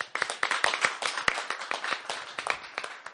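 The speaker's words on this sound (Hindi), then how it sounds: "तालियां प्लीज" A small group clapping, brisk uneven claps with a few sharper close hand claps standing out, continuing steadily throughout.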